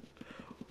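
Horse hooves clip-clop at a steady trot in the online game Ultima Online, six or seven evenly spaced hoofbeats close up with a faint background hum.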